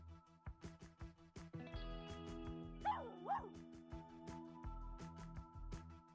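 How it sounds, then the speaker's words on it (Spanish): Small dog yips twice in quick succession in a Barbie pet rescue video game, over busy game music and sound effects, with a high-pitched, synthetic quality. "este perro ya puede entrenar"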